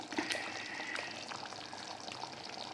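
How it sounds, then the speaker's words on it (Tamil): Small fish added into a simmering coconut-paste fish curry, heard as a soft close pour and bubbling liquid noise with a faint frying hiss throughout. "இப்போ நம்ம மீனை போட்டு வேண்டியது தான்"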